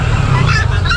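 Close, loud honking and squawking of chickens and turkeys at a poultry stall in a pet market, a brief burst of several birds calling over one another.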